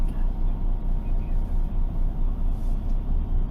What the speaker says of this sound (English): now the system moves up the landing gear